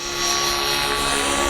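A radio-controlled helicopter flies 3D aerobatic loops and pirouettes nearby, giving a loud, steady high-pitched rotor and motor whine that swells slightly as it passes.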